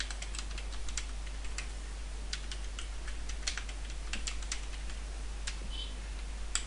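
Continuous quick typing on a computer keyboard while entering a password for a website install, with crisp close key clicks in an uneven stream over a low steady hum.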